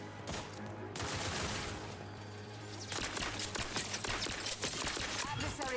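Gunfire rattles in a video game battle, rapid bursts of automatic shots that grow denser and louder toward the end, mixed with mechanical clatter and a steady hum, and a voice can be heard talking over it.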